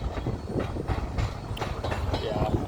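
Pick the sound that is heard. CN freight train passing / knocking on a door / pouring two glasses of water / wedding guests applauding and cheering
CN freight train passing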